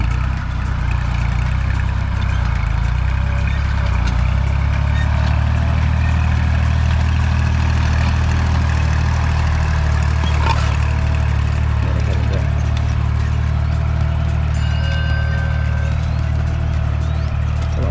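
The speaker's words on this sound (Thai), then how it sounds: "ส่วนมากก็แถวนี้เราก็จะใช้รถไถเล็กหยอดกันนะครับ" A small tractor engine runs steadily while sowing feed corn in a field, a loud, close, continuous low drone with a constant throb and no pauses.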